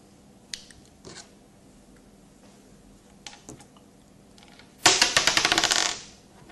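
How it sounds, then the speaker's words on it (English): Dice in a board game give a few scattered light clicks, then a sharp close rattling tumble that fades after about a second. "The selected rival player has to roll the dice again."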